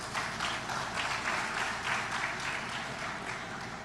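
Sustained audience applause at the opening ceremony of a broadcasting union's annual general assembly, a dense continuous wash of clapping from a large crowd, even and unbroken.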